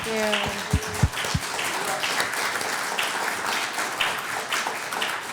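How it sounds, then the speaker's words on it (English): Audience applause at a home-selling seminar, a steady wash of clapping over several seconds, with a few sharp tones near the start and some voices mixed in. "give these guys a round of applause"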